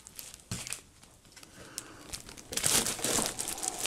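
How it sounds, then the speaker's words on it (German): Packaging for a Medion Akoya S14407 laptop crinkles and rustles as it is unpacked, with soft scattered crackles early on that swell into a louder, denser stretch of crumpling toward the end, close by with no talking. "Wir müssen ja jetzt erstmal weiter auspacken"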